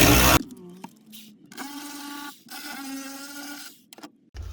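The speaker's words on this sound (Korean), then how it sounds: "10mm 볼트 4 풀어주겠습니다." Electronic parking brake on a Genesis being serviced, with 10mm bolts unscrewed by a power tool: a sustained mechanical whir with harmonic buzzing that runs in bursts with short pauses, close and fairly loud.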